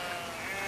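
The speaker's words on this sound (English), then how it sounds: "there's a lot of sheep over on the left-hand bank there" Sheep bleating on a valley riverbank, one brief sustained bleat heard from a distance over steady outdoor ambience.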